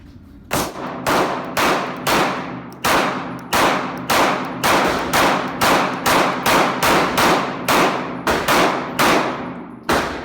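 A Glock 19X pistol fires at an outdoor range in a steady series of about twenty sharp, loud shots, each with a quick decaying tail, spaced fairly evenly and close up with no talking.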